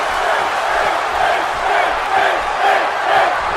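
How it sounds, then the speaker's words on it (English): A large arena crowd chants for a wrestler in the WWE 2K18 video game, a broad rolling roar with rhythmic swells of massed voices, loud and continuous. "And now the crowd chanting for Finn."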